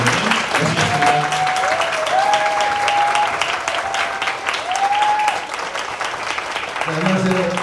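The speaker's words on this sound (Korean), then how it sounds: "오실 때 큰 박수 부탁드리겠습니다" An audience at a Korean team meeting event claps in loud, sustained applause to welcome a leader to the stage, steady throughout, while a faint tonal voice or music line sits underneath.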